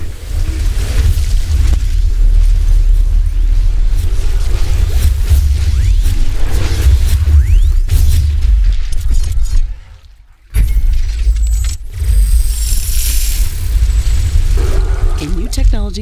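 Tower blowing apart in The Riftbreaker on an acid world during a brutal survival wave: a long, loud rumbling crash with shattering debris and whooshes, a brief drop to near silence, then renewed heavy blasts and crackling under game voice announcements.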